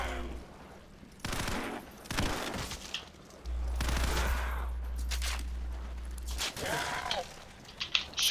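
Shotgun blasts in Call of Duty: World at War custom zombies co-op on the Wolf River map, several loud booming shots spaced through the stretch, with players talking over the gunfire.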